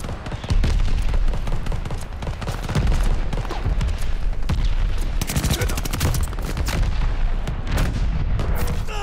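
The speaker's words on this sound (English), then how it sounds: "Friendly mortar fire coming" Friendly mortar and gunfire in Call of Duty: Vanguard team deathmatch on PS5, a dense, continuous barrage of booms and crackling shots with sharp louder bursts near the end, with a voice faintly under the battle.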